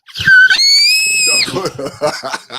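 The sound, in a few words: child screaming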